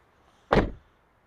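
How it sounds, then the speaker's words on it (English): A 2024 Chevrolet Equinox EV door opens from its handle with one short, close, thudding mechanical release that fades quickly into quiet. "Pull on the door handle right here."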